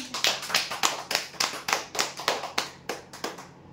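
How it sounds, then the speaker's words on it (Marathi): Applause for a prize draw winner of an 8-litre pressure cooker: roughly thirteen crisp, regular hand claps in a brisk rhythm, close and moderately loud, with no voices, tapering off at the end. "जोरदार टाळ्या द्या"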